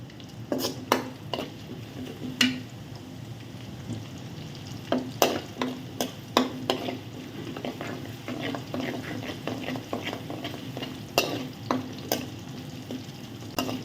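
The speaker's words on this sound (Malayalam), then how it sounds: "ഇതിലൊന്നും വെള്ളമയം ഇല്ലാത്ത പോലെ തന്നെ നല്ല വഴറ്റിയെടുക്കണേ" Ginger is sautéed in a pan for hogplum pickle, with a low frying hiss under repeated sharp spoon scrapes and taps against the pan in an uneven rhythm, close and fairly loud.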